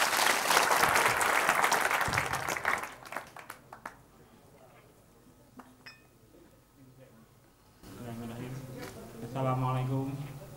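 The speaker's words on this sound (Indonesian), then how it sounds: "Tepuk tangan untuk Mustafa." Brief applause rises from the audience at a Mocopat Syafaat Javanese religious and music gathering, a loud burst of clapping in the first few seconds that fades into scattered claps, with people talking afterward.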